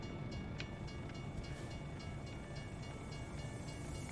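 A train passes a railroad crossing in American Truck Simulator, its steady rumble filling the scene while a faint crossing bell dings at regular intervals.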